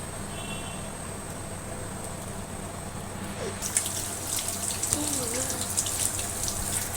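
Raw crabs being rinsed under running water at a kitchen sink while cleaning them for stuffing; steady tap flow becomes louder and splashier halfway through, with water sloshing and spattering over the shells.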